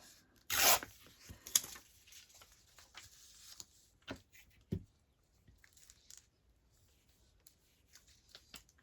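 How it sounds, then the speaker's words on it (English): Paper being torn off by hand during an envelope upcycling craft, one sharp rip followed by a second shorter tear, then quiet rustling and handling of paper, close and fairly soft. "So just tear it off."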